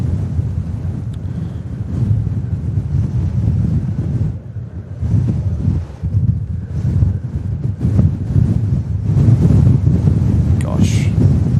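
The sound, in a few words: strong wind during Storm Bram at Manchester Airport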